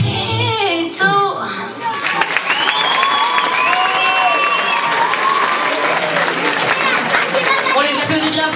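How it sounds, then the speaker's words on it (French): An audience at the Miss Yonne 2024 pageant applauds loudly and steadily for several seconds, a dense wash of clapping with some cheering, after a short stretch of talk. "On les applaudit bien fort et on continue avec le deuxième passage."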